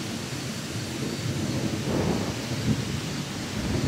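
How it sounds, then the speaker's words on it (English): Rumbling thunderstorm noise with heavy rain and gusty wind, heard while camping in a truck, a broad continuous roar that swells slightly in the middle. "storming really good out here. Yeah. The wind's picked up."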